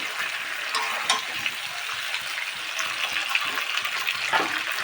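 Mutton sautéed in a wok gives a steady, close sizzle and crackle throughout, with occasional scrapes and clinks from stirring and no talking.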